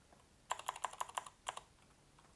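About eight crisp keystrokes on a computer keyboard in a quick, slightly uneven run, close and distinct over a quiet background.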